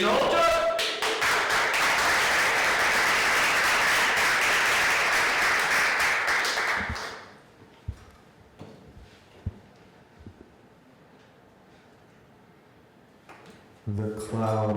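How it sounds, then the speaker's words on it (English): At a New York City high school poetry awards ceremony, the audience claps loudly and steadily for a winner, then the applause tapers off abruptly into a quiet room with scattered taps and small clicks before a voice begins. "Let's give a warm round of applause for Ian Holchak"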